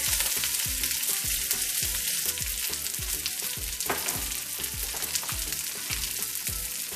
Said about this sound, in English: And we're gonna add this asparagus in there.